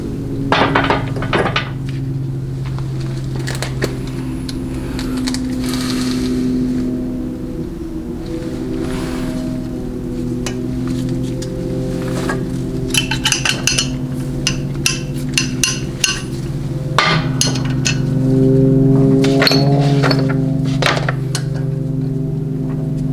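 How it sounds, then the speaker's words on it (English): Bushing being pressed into a Chrysler A904/A998 transmission part on a shop press: sharp metallic clanks and clinks over a steady low mechanical hum, close and fairly loud. "Alright, let's go to the press and install it."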